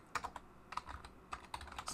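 Keys clatter on a computer keyboard as a short folder name is typed in a quiet room, a few quick bursts of clicks with brief pauses between them.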